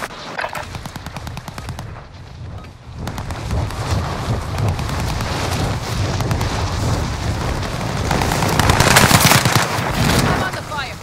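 Rapid bursts of gunfire from the Resurgence video game rattle loudly and almost without pause, building in intensity toward the end, with voices beneath.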